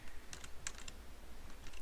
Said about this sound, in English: My keyboard is very noisy.